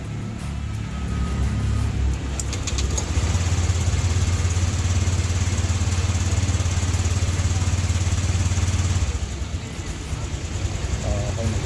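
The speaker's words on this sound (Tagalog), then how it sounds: "So antay lang natin na medyo uminit yung makina" Honda Click scooter engine idling steadily after starting while it warms up and the idle RPM is set, a close, continuous putter with a brief mechanical rattle early on, easing down near the end.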